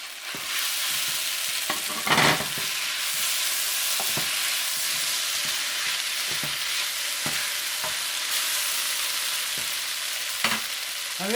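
Bulgogi beef sizzles steadily in a hot pan while a utensil stirs it, scraping and tapping in scattered knocks over a constant bright frying hiss. No one speaks.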